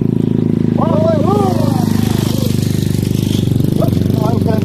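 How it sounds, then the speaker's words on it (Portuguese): A motorcycle runs steadily along a roadside, its engine drone continuous and fairly close throughout, while people talk over it. "é uma moto"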